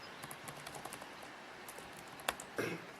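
Commands are typed on a computer keyboard, irregular light key taps through a quiet room, with a sharper clack near the end followed by a brief burst of clatter.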